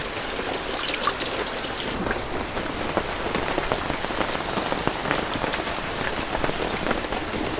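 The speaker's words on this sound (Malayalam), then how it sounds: "നല്ല മഴ ഉണ്ട് ഇത്രേ നല്ല മഴയാണ്" Heavy rain pours down in a loud, dense, unbroken patter of drops striking surfaces nearby, with no voices.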